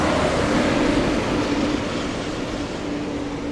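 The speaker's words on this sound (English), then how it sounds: "This must be an emergency snow plow." A snow plow truck passing along a snowy city street, heard as a loud, broad roaring rush with a steady engine drone that eases slightly as it moves on; no talking.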